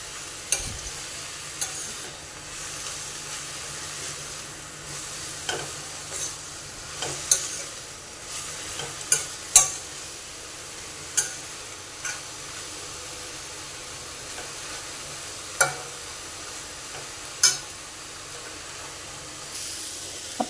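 Red amaranth leaves (lal math bhaji) cook in an uncovered pan with a low, steady sizzle, and soft scraping stirs and small clinks come through every few seconds.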